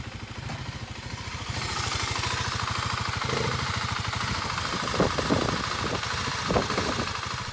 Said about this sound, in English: we're going to start it up, let it idle for a minute or two, get the oil working around through that new filter we got